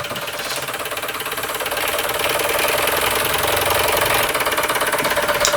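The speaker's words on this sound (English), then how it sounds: "I think that's an absolutely superb little steam engine" A small Stirlingkit Retrol SE-02 model steam engine runs steadily, giving a continuous, fairly loud rapid mechanical chuffing and knocking rhythm that builds slightly and holds without pause, heard alone.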